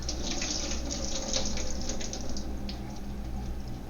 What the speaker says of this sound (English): I'm just gonna wash them now, make sure that all the slime's off the shrimp.